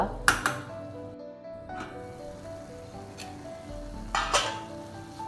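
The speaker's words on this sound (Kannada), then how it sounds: "ಸೊ ಇದು ನೀಟಾಗಿ ಫ್ರೈ ಆಗ್ತಾ ಇದೆ" Grated carrot for halwa fries in a pan under a light sizzle, with a few sharp clinks of a metal spoon or lid against the pan at intervals.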